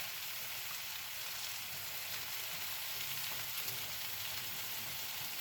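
Onions and Brussels sprouts cooking in a pan with a makeshift square lid, giving a steady soft sizzle and fry that stays even and low throughout, with no voices.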